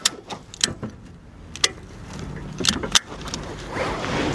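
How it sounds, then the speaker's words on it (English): A ratchet strap being cranked to tension a Paratech rescue strut bracing a vehicle on its side: a handful of sharp, separate metallic clicks spaced irregularly, close and fairly loud over faint background noise. "open the ratchet strap, and add tension to the strut"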